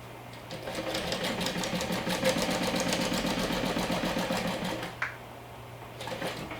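A sewing machine runs steadily for about five seconds, top stitching a seam with the seam allowance pressed open on a zippered bag lining, its needle chattering in a fast, even rhythm before stopping abruptly; the room falls quiet afterward.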